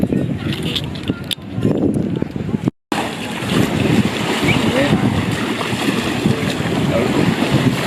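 A jet ski rides across the sea near an island, its engine roaring under rushing wind and splashing water, loud and close throughout, with a brief dropout early on and voices faintly underneath.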